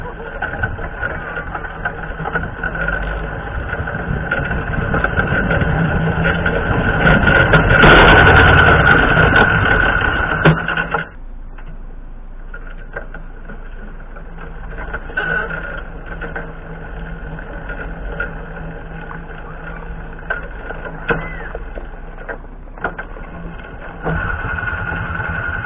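A custom go-kart engine runs close and loud, then its revs drop and it settles into a steady, slightly knocking idle that carries on to the end.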